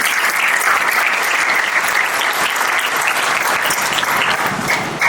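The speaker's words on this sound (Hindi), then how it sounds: "मिस्टर कमल राय साहू सर के लिए एक बार जोरदार ताली" Loud, dense applause from a seminar audience honoring Mr. Kamal Rai Sahu at a network marketing talk, a steady wash of many hands clapping without pause for the full stretch, no speech over it.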